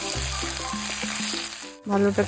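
Ginger-garlic paste sizzling and frying in hot oil for fish-head muri ghonto, a steady crackle with a soft tonal hum beneath, briefly dipping near the end before resuming louder, with no talk.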